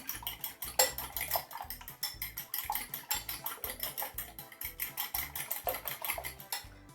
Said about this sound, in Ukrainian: Додаю до них дрібку солі, трохи збиваю.